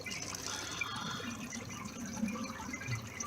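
Water drains steadily through hydroponic bell siphon tanks, a continuous soft gurgling trickle with faint drips, heard alone without talk.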